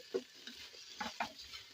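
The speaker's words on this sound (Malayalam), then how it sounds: "ചോറിനുള്ള അരി ഒന്ന് വറുത്ത്" Raw rice for prawn biryani being fried and stirred in a pan, with a few soft, quiet scrapes of a spoon over a faint sizzle, with no voices.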